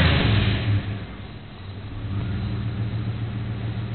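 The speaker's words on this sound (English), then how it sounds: "Now let's watch what happens if I give it a ton of gas" A Jeep with a rough-running engine that won't start in extreme temperature changes and humidity revs up hard under heavy throttle, a close, loud engine roar that dips briefly and then holds steady.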